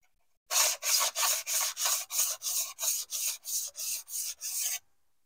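Jointer planer blades being sharpened on a Parkside diamond stone, a dozen even rasping strokes back and forth in steady rhythm, close and clear with no talk.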